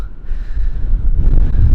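Strong wind buffets the microphone at the Burj Al Babas chateau villas in Mudurnu, a loud, continuous low roar that swells and gusts harder toward the end.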